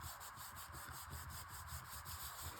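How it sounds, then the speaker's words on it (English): Paper is rubbed down firmly by hand onto a small handmade paper-bag notebook, producing a faint, steady, even scuffing texture with a quick repeating rhythm and no voices. "Give that a little bit of a rub down"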